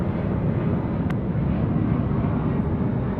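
A Velocity airliner departing Sydney Airport at night, a steady, broad jet roar that stays loud and constant throughout with no one talking.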